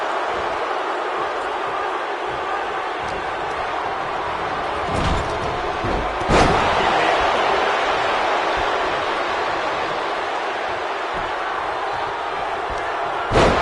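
A neckbreaker slam lands in the WWE2K25 wrestling video game at a Royal Rumble in Yankee Stadium. A single heavy thud cuts through a constant, loud arena crowd roar, with a few fainter impacts nearby.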